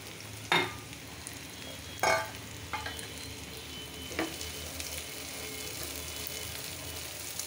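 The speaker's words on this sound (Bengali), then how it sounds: "এখন এটা কাঁচা কাঁচা আছে, এটার ভিতরে আমি বুটগুলি দিয়ে দিচ্ছি।" Raw chickpeas tipped into a frying pan of hot oil, bursts of sizzling at the drop, then scraping stirs over a steady low fry, close and fairly loud with no talking.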